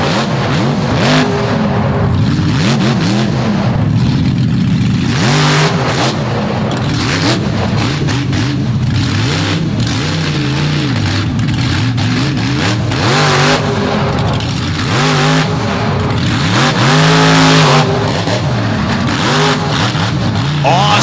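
Short-piped drag racing truck launching hard at a dragway event, a loud sustained engine roar with revving surges and harmonic sweeps, crowd and announcer speech mixed in throughout.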